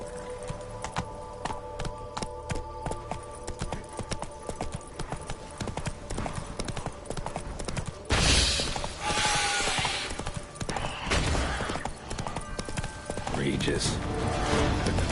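Roach, the horse in The Witcher 3: Blood and Wine, gallops with steady rhythmic hoofbeats under game music and ambience, with a louder burst of movement midway.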